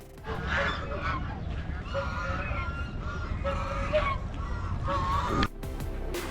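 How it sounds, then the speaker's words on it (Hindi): Several honking, quacking duck calls repeat over a steady outdoor background at a lake in Bhopal, India, with faint voices mixed in. "यहाँ आपको बतख भी देखने को मिल जाएगी।"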